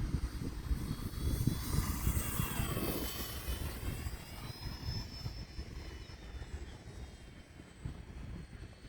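An E-flite Valiant 1.3m RC model airplane in flight gives a continuous electric motor whine that rises and sweeps in pitch as it passes, with breezy outdoor rumble underneath and no talking.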